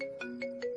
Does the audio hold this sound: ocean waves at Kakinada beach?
no